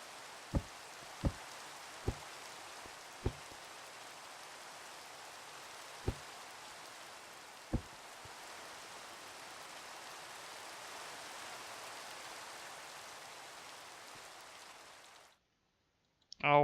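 Steady rain hisses softly in the Minecraft video game, a constant wash of falling water with a few sharp clicks near the start, then cutting off abruptly to near silence.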